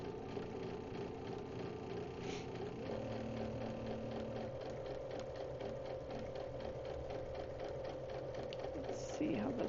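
A sewing machine stitching slowly while a Christmas in July quilting project is pieced, a steady mechanical whir with regular needle ticks, fairly quiet and close, running on its own throughout.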